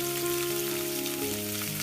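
Curry leaves sizzle and crackle in hot oil with popped mustard seeds, a steady close frying hiss with no talking.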